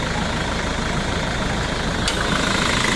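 A car engine idles steadily with a dense, even rumble and no voices, holding a constant level throughout.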